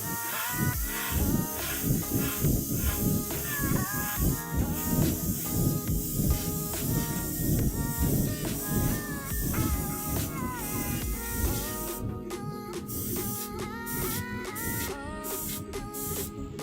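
Fine airbrush spraying paint, a continuous airy hiss that keeps going throughout, mixed with background music and faint scattered sounds, with no clear talk over it.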